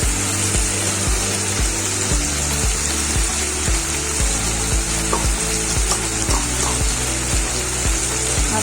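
Onion and tomato fry in oil for a Maharashtrian horse gram curry, a steady, dense sizzle that holds through the whole stretch, with a regular low thumping beat running beneath it.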